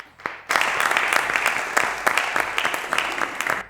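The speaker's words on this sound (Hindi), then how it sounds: "ताली" Studio audience applause at a Lahore Eid special talk show, a burst of dense clapping that starts after a brief pause and continues steadily and loudly to the end.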